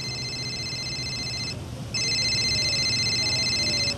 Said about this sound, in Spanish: Guardó el teléfono celular a pesar de que estaba sonando